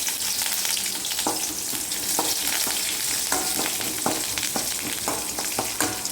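Green chillies and curry leaves sizzle and crackle in hot oil in a pan, a steady close frying hiss broken by sharp pops and the scrape of stirring.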